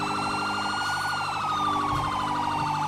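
A police siren wails continuously in a roleplay video game patrol chase, a steady warbling tone that rises and falls, loud and close with no talk.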